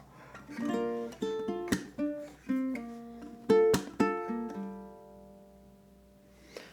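Ukulele playing a song's riff slowly, a string of clear plucked notes in steady phrases with a few sharp strums, ending on a long ringing note that fades before a final soft touch; solo and close.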